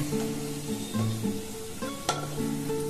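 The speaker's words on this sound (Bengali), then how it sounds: "একদম কম আঁচে ভেজে নেবেন।" Food frying gently in a pan over low heat gives a steady, soft sizzle, with a few stirring scrapes and a short clink near the end.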